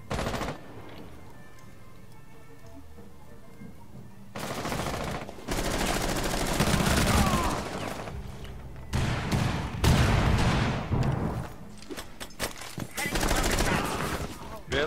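Gunfire in the tactical shooter Rainbow Six Siege crackles in repeated loud bursts and rapid automatic volleys through the second half, with sharp single shots near the end and players talking between the bursts.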